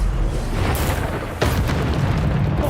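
A Bombarda explosion spell goes off in a Harry Potter video game, a dull broadband boom that swells around the middle and stays loud and dense to the end, with no pauses.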